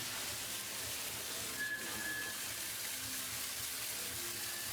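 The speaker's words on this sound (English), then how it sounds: "all of this material is washed with a very high-powered" A high-powered water gun blasts mined material at a washing plant in Bolivia, giving a steady, dense hiss and spray that runs continuously with no breaks.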